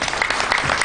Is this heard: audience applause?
yes